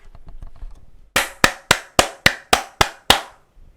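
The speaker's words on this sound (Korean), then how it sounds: "우리 삼성한테 박수 한번 칩시다" Eight sharp, evenly spaced hand claps ring out close and loud, each decaying quickly, following a brief low murmur.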